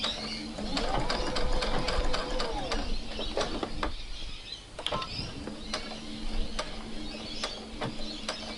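A sewing machine runs steadily while stitching fabric to close a gap in a garment seam, with a continuous mechanical whir and faint clicking throughout.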